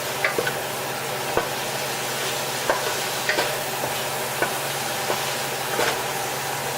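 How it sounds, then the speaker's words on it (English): Seafood being stirred into a white wine sauce in a hot pan, a steady close sizzle broken by repeated clacking scrapes of a utensil at an irregular pace, with no talk. "So now I can just drop my seafood back in for a little bit to get them coated nicely."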